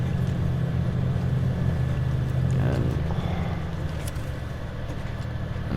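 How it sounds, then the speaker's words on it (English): A truck engine in the Snowrunner video game drones low and loud as it labors, then drops and sags near stalling under a throttle, while someone speaks briefly. "okay, almost stalled the engine there"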